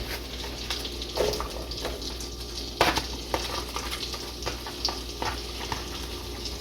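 Oysters fry in fat in a pan with a soft, continuous sizzle and crackle and occasional louder pops and stirring sounds, fairly quiet overall.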